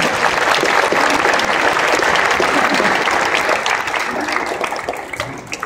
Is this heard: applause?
yes